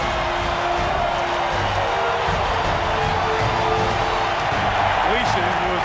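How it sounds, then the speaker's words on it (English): A packed stadium roars after a New Orleans Saints blocked punt is returned for a touchdown: a loud, unbroken wall of crowd noise with a voice talking over it. "Listen to this crowd."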